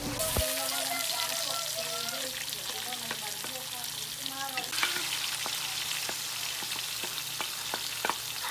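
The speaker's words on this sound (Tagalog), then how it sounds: "Habang ang pinapakulo yung baka, gigisa na nga yung mga recados. Pinagsabay-sabay na nga sa isang kawali." Aromatics sauté in a kawali frying pan next to simmering beef: a loud, steady hiss of frying runs throughout, broken by scattered utensil taps and scrapes near the pan.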